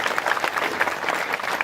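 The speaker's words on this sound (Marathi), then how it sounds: "आयोजक, संयोजक, नियोजक, सप्ताह कमिटीसाठी एकदा जोरदार टाळी वाजवा." An audience claps together at a Hindu devotional week-long gathering, a brief burst of dense, steady applause at moderate distance.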